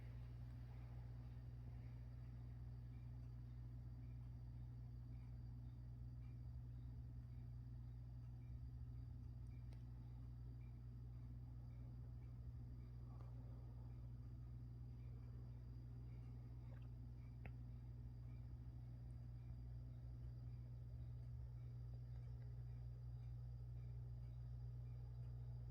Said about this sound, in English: There's cars passing by outside on the highway close to my house here, so you can hear that out there in the distance.